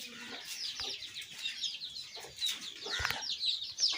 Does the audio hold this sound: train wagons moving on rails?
no